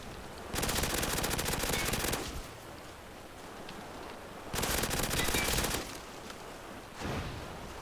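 Sustained bursts of P90 automatic fire in the zombies game UGX Requiem, two long rapid strings of shots plus a short third burst, loud and close with quieter game ambience between.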